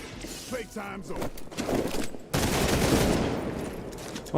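Gunfire in the video game Marvel's Midnight Suns, a dense burst of shots and mechanical clatter under game music and effects, with a loud sustained barrage in the second half.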